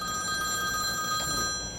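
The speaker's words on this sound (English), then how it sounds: "I hear ringing." A telephone rings steadily with a high electronic bell tone that persists without pause over a hissy background, moderately loud and alone, with no voices.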